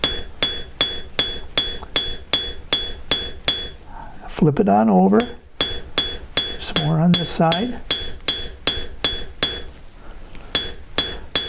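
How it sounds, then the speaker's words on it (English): A hammer planishes a sterling silver forging in a steady run of sharp, ringing metallic blows, up close and loud, with brief spoken remarks in two short breaks. "So let's just hammer those marks out, overlapping those hammer blows with that nice smooth surface of the forging"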